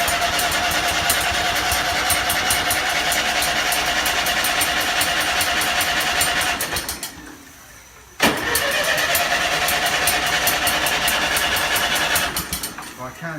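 An old Ferguson TEA 20 tractor engine runs loud and steady with throttle applied, briefly dropping away to a near stall before catching again with a sudden burst and continuing to run.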